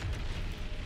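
A grenade blast in the shooter game Crysis 3: a deep, rumbling boom that swells briefly, then settles into a sustained low roar under steady background noise.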